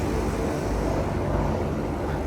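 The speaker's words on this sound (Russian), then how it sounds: "Сразу 3 вертолета полетело. Прям звук такой." Several helicopters pass overhead together, a loud, steady, rumbling roar filling the whole moment without breaks, heard from the ground with some wind buffeting.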